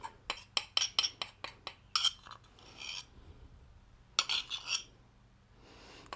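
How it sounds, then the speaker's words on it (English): A knife scrapes melted peanut butter from a bowl in a home kitchen, a series of quick rasping strokes with metallic clinks, then a few longer scrapes after pauses, close and clear with no talk. "I'm scraping it with my knife"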